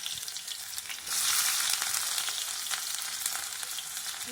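Onion, garlic, tomato, green chili and curry leaves fry in a pan with a steady, close sizzle that swells louder after the first second and stays even, with faint stirring and no voices.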